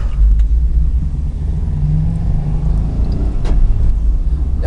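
An old Subaru drives along in four-wheel drive, a loud continuous low engine and road rumble heard from inside the car, steady with slight swells.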